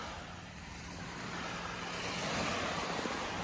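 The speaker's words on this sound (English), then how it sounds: "Listening to the sea." Sea waves wash steadily onto a Bahamas shore, a broad continuous surf roar mixed with wind buffeting that swells slightly louder toward the end, with no voices.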